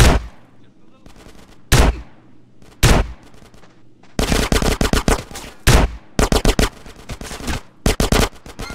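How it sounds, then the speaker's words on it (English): Video game gunfire from GTA San Andreas: loud single shots and dense bursts of automatic weapons fire in a shootout, coming in irregular clusters with short gaps. "Get some suppressing fire in there!"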